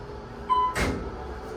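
Hotel elevator door at Hilton Orlando Lake Buena Vista sliding along its track, a short soft whoosh and rumble with a faint tone just before, heard once, close and alone.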